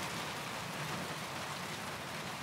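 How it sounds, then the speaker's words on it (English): Rain pours onto metal roofs in a dense, constant patter, an even hiss that holds steady throughout without talk. "When it rains, you know, the noise that it makes, the sound it makes is like music to my ears."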